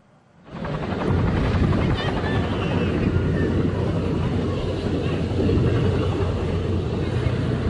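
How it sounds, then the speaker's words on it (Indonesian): A helicopter over a Southern California beach loses control and crashes into a row of palm trees; a loud, steady rotor roar with wind noise starts suddenly after a quiet moment and stays constant, with voices faintly underneath. "Helikopter tiba-tiba kehilangan kendali dan menabrak deretan pohon palem dan membuat warga kaget."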